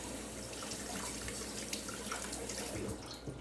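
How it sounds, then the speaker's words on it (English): Hands are rinsed under a running kitchen tap, a steady, fairly soft splash of water with small irregular drips and surges, heard alone. "Let me just wash my hands."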